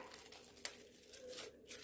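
A plastic bag of milk is torn open close up, producing soft ripping and crinkling with a sharp snap partway through, quiet and unaccompanied by talk.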